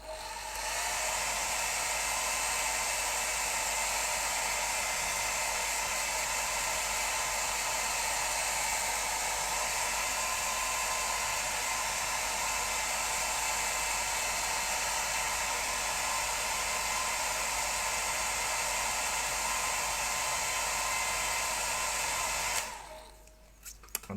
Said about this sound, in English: I'm just going to get the hairdryer on this again.